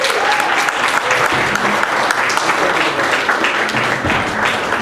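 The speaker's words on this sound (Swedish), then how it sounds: "En stor applåd för Nenad Gladic" A studio audience claps steadily and loudly for chef Nenad Gladic at a Serbian tourism event in Stockholm, the dense applause running unbroken throughout with no voices over it.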